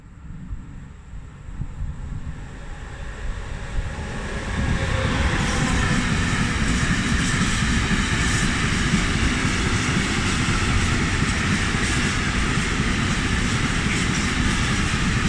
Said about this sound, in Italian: Treno in transito al binario 2, allontanarsi dalla linea gialla.